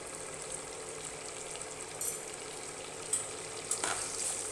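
Paneer masala sizzles steadily in a hot pan, a soft continuous frying hiss with a few sharper scrapes and clacks as the spoon stirs it, and no voices.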